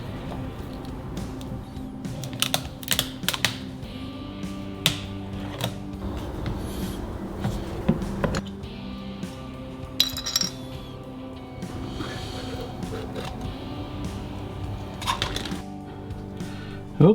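A used engine oil filter held in a vise is cut open, giving scattered close metallic clicks, clinks and scraping taps at an irregular pace over a steady low hum, with no talking.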